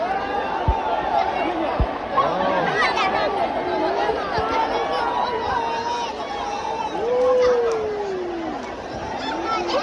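Dense crowd chatter at a live outdoor concert in Diphu, Karbi Anglong: a constant loud wash of many voices, with some nearer shouts and whistles rising above it.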